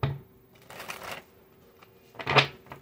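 A tarot card deck is shuffled in two quick riffling bursts, close and crisp with a pause between, followed by a faint tap of the cards.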